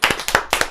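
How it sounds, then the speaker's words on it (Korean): A church youth congregation claps hands in a brief burst of several sharp, loud, close claps. "박수 한번 칩시다."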